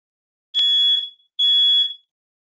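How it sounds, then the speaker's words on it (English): A home alarm, smoke-detector style, sounds two loud, piercing, high-pitched beeps about a second apart, each lasting roughly half a second and heard alone in silence. "Apparently there's some sort of alarm going off in my home."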